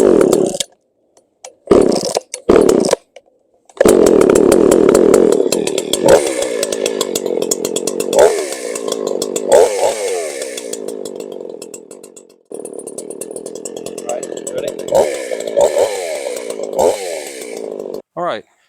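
Chainsaw engine being tuned at the carburetor, revving up and down close by in loud, uneven bursts with brief cut-offs and idle dips, and someone talking over parts of it.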